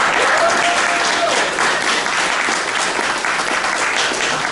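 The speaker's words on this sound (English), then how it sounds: "So let's have a round of applause for Sarah." Loud, sustained audience applause at a community coffee hour gathering, with dense clapping filling the whole stretch and no voices on top.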